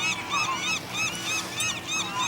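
Gulls calling repeatedly along a shoreline where fish scraps lie, a loud, continuous chorus of overlapping squawks and honking cries with no talk.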